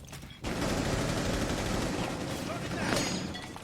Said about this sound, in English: Takes some gunfire. Gives it back.